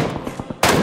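Gunfire in the mobile game PUBG Mobile, a fast run of muffled shots that ends in one loud, close blast.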